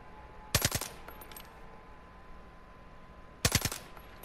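Suppressed gunfire in the video game Far Cry 5 comes as two short bursts of rapid, muffled shots, separated by a quiet gap of about three seconds.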